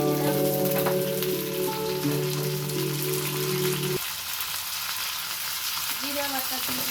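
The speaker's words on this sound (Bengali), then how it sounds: "এখন আমি পেঁয়াজটা লাল লাল হয়ে আসছে, এখন আমি রসুন বাটা দিয়ে দিলাম।" Onions fry with added garlic paste in a pan for a Bangladeshi fish bhuna, a close, steady sizzle with stirring. A low hum runs under it at first and then drops away.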